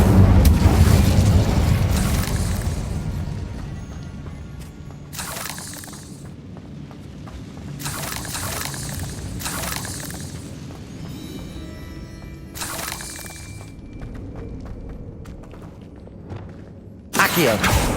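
Hogwarts Legacy Incendio fire spell bursts amid other spell blasts, a heavy rumbling whoosh at the start followed by several sharp bright crackling hits spaced through the combat, loud and close.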